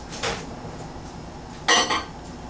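A glass measuring cup holding butter is handled and set into a microwave, giving two short clinks and knocks, the second louder, against quiet room background.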